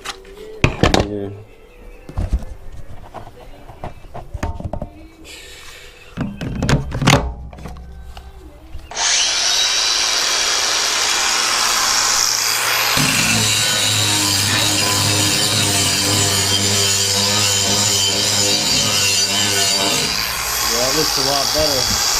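An angle grinder with a sanding disc works a rusted metal table, first in a few scattered knocks and bursts, then a loud steady grinding roar that runs continuously to the end.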